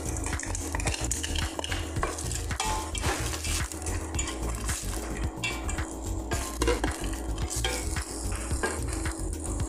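Frozen vegetables sizzle steadily in a hot pan for a rice and tuna dish while a utensil scrapes and clatters against the metal in quick, repeated strokes, loud and close, with no talking.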